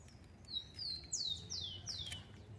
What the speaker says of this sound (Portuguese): Canta, passarinho, canta.